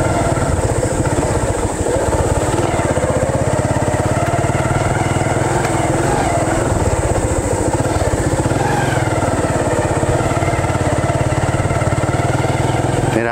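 A motorbike carrying two riders rumbles steadily along a rough, unpaved dirt road through a forest, its engine loud and close with a constant droning tone and slight throttle changes, no talk.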